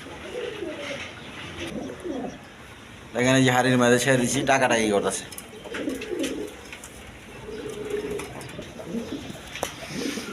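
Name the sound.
red fancy pigeons cooing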